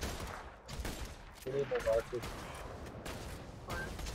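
Gunfire from weapons in the video game Borderlands 2, a short burst of shots rising briefly mid-clip over game ambience while players talk.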